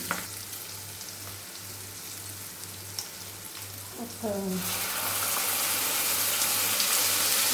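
Ginger garlic paste hits a hot pan for chicken fry, starting with a quiet hum and light stirring, then bursting into a loud, steady sizzle that keeps building; a voice is briefly heard.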